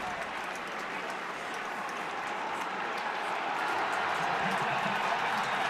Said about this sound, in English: a bit of a rumble in the crowd